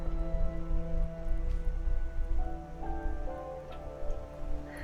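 Steady rain falls in the video game Skyrim around a house with chickens and a fox, a dense, constant patter with game ambience and tonal music layered over it, no voices.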